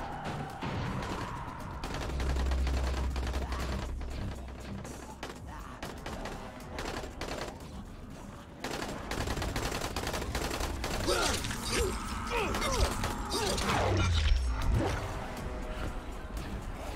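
Gunfire in the zombie survival video game Dying Light, with bursts of rapid shots and crashing impacts over a dense, busy game soundscape, loud and close throughout.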